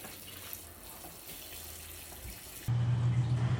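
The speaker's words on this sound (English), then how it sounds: "we need to fill up these buffet pans that are full of yarn with water" Tap water runs steadily into a row of buffet pans packed with yarn before acid dyeing. The flow hisses softly at first, then a louder, fuller stream pours in near the end.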